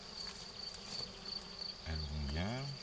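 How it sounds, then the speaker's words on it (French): Honeybees hum around an opened frameless Layens hive on a first inspection two weeks after hiving, a steady insect drone with a lower, louder buzz swelling up close near the end. "Et les abeilles sur le truc."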